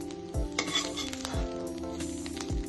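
Grated beetroot frying in a kadai, a steady sizzle broken by three regular scraping strokes of a spoon against the pan, close and clear.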